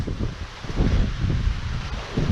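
Wind gusting as a hurricane approaches, a low roaring rumble that swells and buffets against the microphone in uneven surges, moderately loud and continuous, with no voices.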